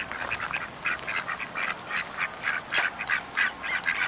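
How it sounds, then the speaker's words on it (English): Geese or swans on a lake calling in a series of nasal honks and quacks, moderately distant over a steady outdoor hiss, with no talk. "Is that a goose or is that a swan?"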